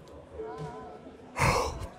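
A single drawn-out yawn with a breathy, rising exhale, close to the microphone, over faint background noise, inside a car at a motor show.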